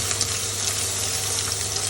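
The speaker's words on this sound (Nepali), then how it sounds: "हरियो रातो जुन खुर्सानी भए पनि राखौँ। यसलाई पनि फ्राई गरौँ, रातो हुने गरी चाहिँ यसलाई फ्राई गरौँ।" Green and red chillies frying in a pan give a steady, close, even sizzle with fine crackle throughout, no voices.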